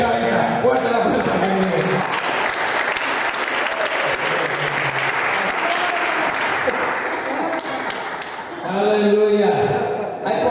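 A church congregation breaks into loud, sustained applause during a sermon, dense clapping filling the room for several seconds before swelling again near the end, with voices mixed into the crowd noise.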